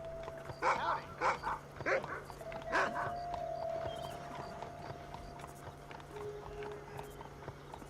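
A dog in the video game Red Dead Redemption barks several times in a quick series near the start, fairly close, with a steady background hum and horse hooves clopping.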